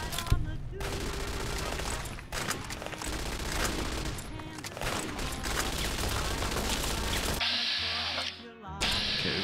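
Sustained automatic turret fire in the Fallout TTW video game, a dense, loud, continuous clatter of rapid shots that keeps going for several seconds before a brief break and then resumes.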